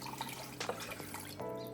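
Cold water pours into a kosher salt and white sugar brine mixture, a soft continuous trickle and splash that swells briefly midway, heard close and alone.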